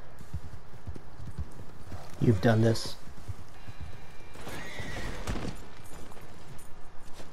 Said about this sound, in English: as I approach these rocks, the horse slides right past